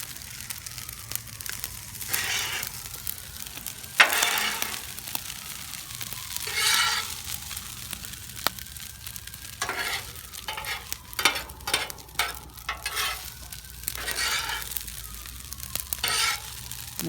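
Fried rice with mushrooms and bean sprouts sizzles on a Blackstone griddle, broken by repeated sharp spatula scrapes and clacks in an irregular rhythm, close and clear with no speech.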